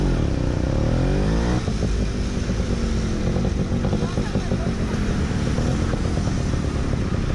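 A 1996 Suzuki Samurai two-stroke motorcycle roars at full throttle near top speed, its buzzing, rising engine note loud and continuous throughout, with wind rush and a noticeable gear change early on.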